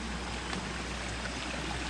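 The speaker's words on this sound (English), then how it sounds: "this river is, you see, passing this side. It's like a stream" A village river rushing along like a stream, a steady broadband wash of flowing water heard close and constant for the whole short stretch, without talk.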